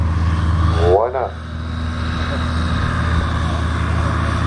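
A Just Aircraft SuperSTOL Highlander bush plane landing at Oshkosh, its propeller engine droning steadily and loudly with a brief pitch sweep and dip in level, while a person talks over it.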